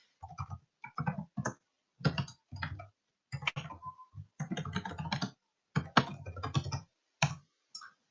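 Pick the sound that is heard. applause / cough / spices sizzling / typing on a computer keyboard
typing on a computer keyboard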